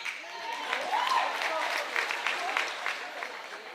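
Audience applause fills a comedy show in Gabon, a steady wash of clapping that stays loud and even throughout, with faint voices mixed in.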